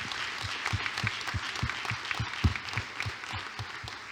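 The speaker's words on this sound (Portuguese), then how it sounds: "eu queria que os irmãos, mais uma vez, aplaudissem a Deus" A church congregation at a Sunday family worship service applauds together, steady rhythmic clapping in an even beat over a room-filling wash of crowd noise.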